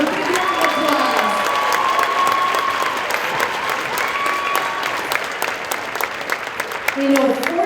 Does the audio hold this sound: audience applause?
yes